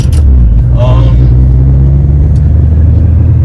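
A 2006 Toyota Corolla XRS with about 193,000 miles idles with a loud, steady low engine rumble, close and continuous, with a brief voice near the start.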